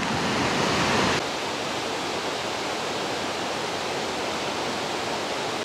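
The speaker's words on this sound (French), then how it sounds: "Ça c'est le haut de la cascade." A steady, full roar of rushing water comes from the top of a waterfall cascade at Doi Inthanon in Thailand. The sound is close and constant, a little louder for the first second, with no voices.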